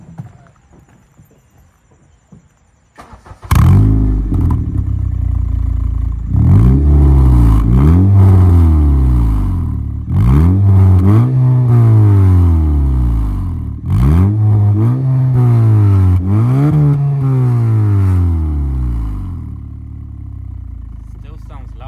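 A 2013 Honda Civic Si coupe with an Invidia N1 catback exhaust and silencer fitted, starting up and then revving hard in repeated loud bursts that rise and fall, close by.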